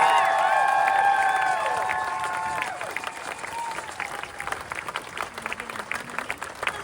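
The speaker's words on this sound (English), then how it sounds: "Give her a round of applause, Dr. Edwards." Rally crowd in Austin breaking into applause and cheering, opening under a sustained tonal musical sound that fades out, leaving scattered clapping and crowd noise with occasional whoops, moderately loud and fairly close.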